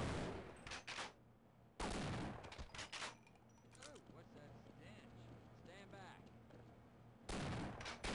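Gunfire in the Half-Life video game, coming as loud broadband bursts at the start, around two to three seconds, and at the end, with quieter game sounds and faint chirps in between.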